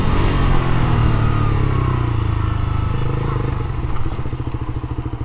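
Suzuki Gixxer 150 motorcycles arrive and idle close by. A deep, continuous engine rumble fills the whole stretch, growing into a rapid throbbing pulse toward the end.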